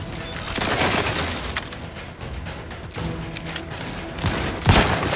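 Rapid bursts of gunfire and impacts in the video game The Outer Worlds 2, dense and continuous across the clip with a sharp loud shot near the end, no speech.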